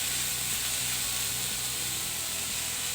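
Yellow capsicum and other vegetables sizzle in a pan over a high flame, a steady, dense hiss of frying that continues unbroken beneath a faint, regular clatter of stirring.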